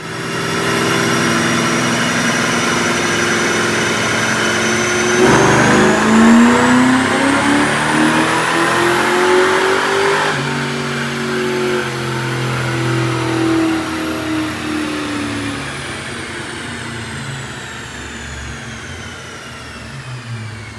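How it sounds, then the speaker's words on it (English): A supercharged 2003 Mustang Mach 1 with a Vortech blower and automatic transmission roars loud and close on a dyno, climbing steadily through the gears with a rising supercharger whine, then easing off toward the end. "check out this dyno pull"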